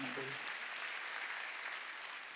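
Church congregation applauding during a Wednesday worship service, a steady, fairly faint wash of clapping from many people that continues evenly throughout.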